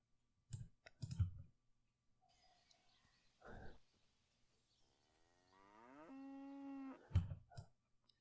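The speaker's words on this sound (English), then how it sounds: "that cow's moo was pretty loud" A cow moos loudly in a long, drawn-out call near the end, after a few sharp clicks and thuds, set against a quiet game-world background in Kingdom Come: Deliverance.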